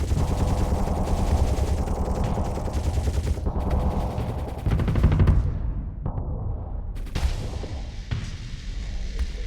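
Ship weapons firing in the space combat game Starsector, a low-tech pirate fleet unleashing rapid automatic bursts and heavy booms, loud and continuous with brief gaps between volleys.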